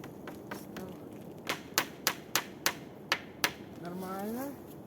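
Hammering pieces in while building a winter forest shelter, about seven sharp evenly spaced knocks in a row, close by, with a voice speaking before and after.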